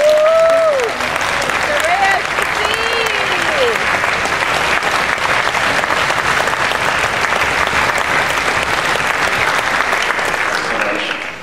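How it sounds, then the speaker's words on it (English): An audience at a school music-education event bursts into a sustained round of applause that fills the hall, steady and dense for the whole stretch, with a few brief whoops near the start. "we can give you a round of applause"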